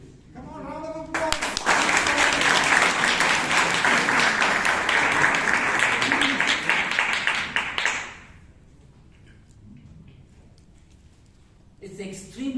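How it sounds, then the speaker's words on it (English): Applause breaks out at a Toastmasters meeting in Bangalore, dense and loud for several seconds after a brief voice, then stops sharply into a quiet room before speech resumes. "Come on, round of applause."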